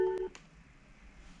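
A Havit M69 waterproof Bluetooth speaker plays a short electronic prompt tone on disconnecting, a brief bright beep sequence at the start followed by quiet room sound.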